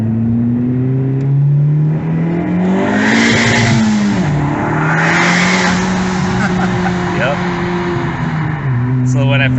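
A Honda Civic Type R engine revs and pulls hard, its pitch climbing and falling through gear changes, loud and close, with a voice briefly speaking over it.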